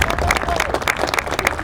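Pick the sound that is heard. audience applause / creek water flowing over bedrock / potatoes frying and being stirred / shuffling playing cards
audience applause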